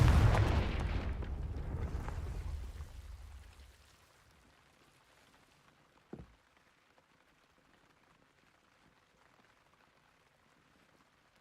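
Confringo fire spell in Hogwarts Legacy goes off as a loud, rumbling explosive burst that fades over about four seconds, followed by a short sharp crack and then near silence.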